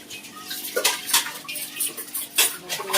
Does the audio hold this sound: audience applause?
no